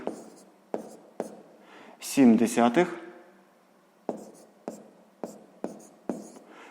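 Pen or marker strokes writing numbers while working a sixth-grade maths problem, heard as short scratchy taps in a slow irregular rhythm, close and fairly quiet, broken by a brief spoken interjection in the middle.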